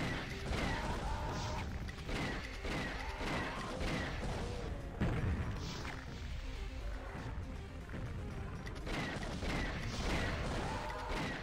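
Rocket launcher fire and explosions in Doom, a dense, continuous barrage of blasts and crashes mixed with monster roars, loud and unbroken throughout.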